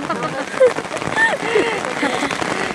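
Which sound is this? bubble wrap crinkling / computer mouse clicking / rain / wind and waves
rain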